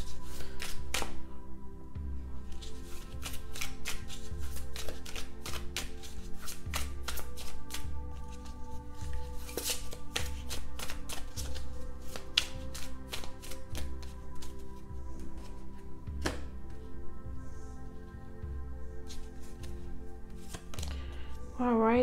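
Tarot cards shuffled in a reading, heard as steady irregular clicks and soft slaps running throughout over a constant humming background bed.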